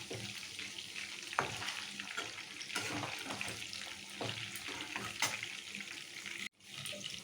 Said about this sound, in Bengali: এবার মিডিয়াম ফ্লেমে রেখে চিকেনগুলোকে ভালো করে ভাজবো,